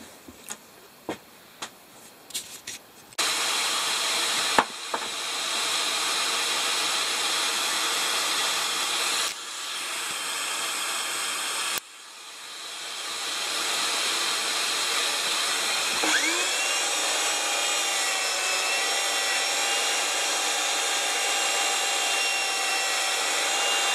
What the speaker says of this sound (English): we'll now take this over to the sander and we'll just straighten the hub up